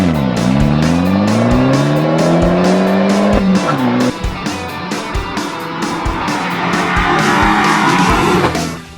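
A 2012 Fiat 500 Abarth's engine revs hard while driving, its rising pitch sweeping up through gears before a throttle lift, then steady loud engine roar with a rhythmic ticking pulse, close and continuous.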